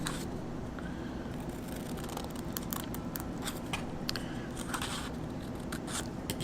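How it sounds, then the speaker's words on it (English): Scissors snip paper to cut out ears for an origami unicorn, a series of quick, close crisp cuts and rustles with no talking. "you want to cut out some ears"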